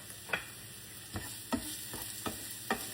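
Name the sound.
onions sauteing in frying pan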